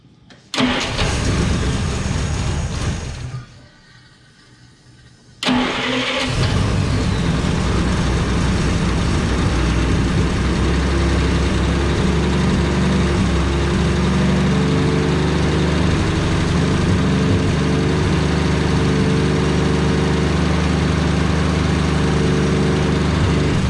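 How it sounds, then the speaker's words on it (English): An abandoned 1948 Studebaker's engine, after the car sat for 35 years, cranks and catches, briefly cuts out, then restarts and runs steadily, rumbling loudly with some throttle, with no voices. "Let's give her a little throttle."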